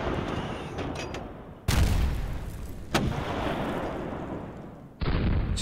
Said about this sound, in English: Let's fire with one battery.